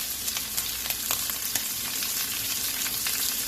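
Bacon sizzles hard in a pan for pineapple fried rice, a dense, even crackle with small pops that runs without a break, close and loud, with no voices.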